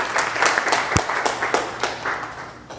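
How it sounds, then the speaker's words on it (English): An audience claps for the speakers at a talk event in Manhattan, a loose round of applause with several sharp individual claps standing out, close and lively before tapering off. "let's give a round of applause for our speakers."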